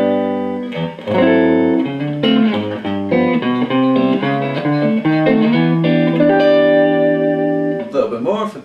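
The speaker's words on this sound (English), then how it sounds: "if I bring in reverb to about 4, I'll put the bass on 5 there as well" Electric guitar played through a Soldano Astroverb 16 1x12 combo amp with reverb set around 4 and bass at 5, ringing chords and melodic lines with a gentle spring-style tail, loud and close, no talking.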